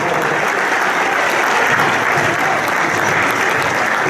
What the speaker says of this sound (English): Let's have a big round of applause for everybody as they return to their tables